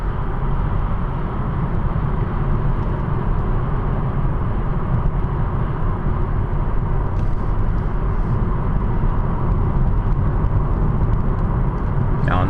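A car driving along a road gives a steady, loud engine and road rumble that holds unchanged throughout, with no talking.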